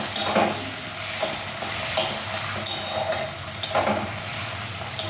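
Green chillies frying in hot oil in a pan, a loud continuous sizzle broken by repeated scraping stirs of a spatula against metal, no talking.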